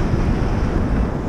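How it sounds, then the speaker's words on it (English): Ocean surf churning under strong wind, a loud, close rush of breaking water mixed with wind buffeting the microphone, with no voices. "Waves are kind of big over here."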